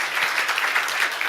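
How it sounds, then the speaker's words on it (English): Brief applause from a room of nurses and practice staff at a care-planning workshop, a short dense patter of clapping. "So how about a round of applause for the Improvement Foundation?"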